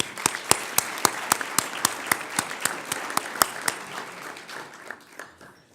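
A small audience at the National Press Club applauds, with sharp, fairly regular individual claps standing out over a softer bed of clapping that fades out near the end.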